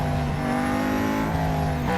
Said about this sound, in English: Lots of skidding.